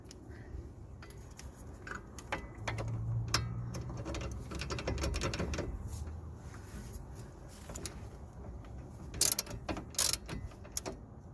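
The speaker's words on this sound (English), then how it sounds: "we'll have to undo 4 bolts at the back to release the cassette" Ratchet undoing four bolts at the back of a Jaguar XF wheel hub to free the hub assembly, quick clicking runs with pauses between, close and fairly quiet, ending in a few sharper clicks.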